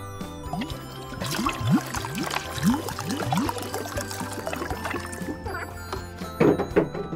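Water pouring into a container for a children's sink-or-float experiment, a steady splashing trickle with rising gurgles, moderately close, over background music.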